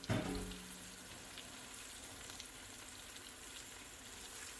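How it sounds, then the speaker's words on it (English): Puerto Rican queso frito slices frying slowly in a pan over low heat, giving a steady, even sizzle throughout with no talking. "Just each side gets a little fried."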